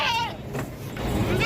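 A goat gives a short, wavering bleat up close and then a second quieter call. Both sound from a livestock sale of top-class goats in Azad Kashmir.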